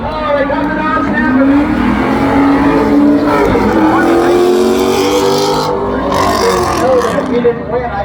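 Race cars accelerate at New Smyrna Speedway during spectator semifinal races, their engines rising and roaring together in a loud, climbing whine, mixed with crowd noise and an excited commentator talking over them.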